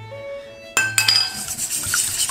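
Egg whites with a pinch of salt being whisked by hand in a bowl for a Christmas log cake, a quick run of close metallic clinks and scraping against the bowl after a brief quiet start, continuing steadily.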